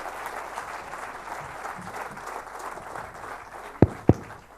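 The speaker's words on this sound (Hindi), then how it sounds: "इन दोनों के लिए एक बार जोरदार तालियां होना चाहिए।" An audience applauds two people called up on stage at a passion-themed talk, a steady moderate clapping wash ending in two sharp loud knocks.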